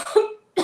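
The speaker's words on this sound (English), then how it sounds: "I'm going to cough a little." A single adult cough up close, followed by a second short cough burst, loud and dry with a brief silence between.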